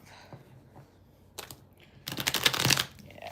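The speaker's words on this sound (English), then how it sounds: "And we just shuffle." A tarot deck is shuffled during a live reading, with a couple of soft taps and then a dense riffling burst of cards lasting under a second near the end.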